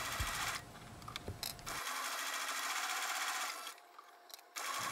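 Sewing machine stitching elastic edging onto a fabric pouch, a steady close whirring run that pauses briefly and resumes, with faint handling noise and no talk.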